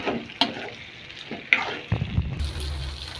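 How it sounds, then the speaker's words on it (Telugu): Stuffed eggplant sizzles softly in hot oil as a curry is cooked, with a few sharp clinks and stirring scrapes before the frying grows louder and steadier near the end. "ఇలా బాగా ఆయిల్లో ఫ్రై అవ్వాలి ఇంత ఫ్రై అయితే ఇంత బాగుంటుంది వంకాయ టేస్ట్"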